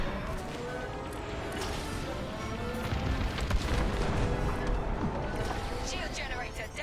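Starfighter laser fire and explosions pound a Starhawk shield generator in Star Wars Squadrons, a dense, continuous roar of booms and crashes with bright zapping bursts throughout, loud and sustained.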